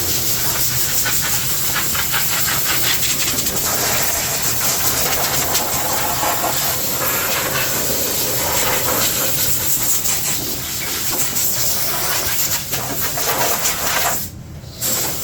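Compressed air blasts steadily against the underbody of an AWD Honda Civic in a workshop, a loud continuous hiss that runs almost unbroken before cutting out briefly near the end.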